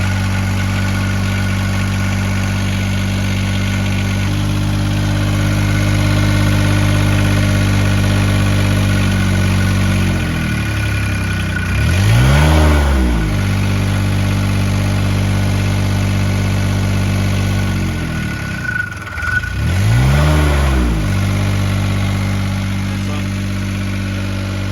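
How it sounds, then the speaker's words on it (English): The diesel engine of a Niftylift HR15/17 or SP45/50 access platform, which has PCB faults, runs at a loud, close, steady idle, then revs up and back down twice, each surge a rising and falling drone. "So when I'm gonna start the engine, I would expect the throttle solenoid to pull in and control the revs."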